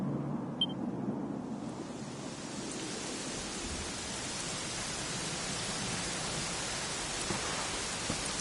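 Rain in the video game Dragon Quest XI, a steady, even hiss of rainfall with a soft low rumble beneath, constant throughout and with no voices over it.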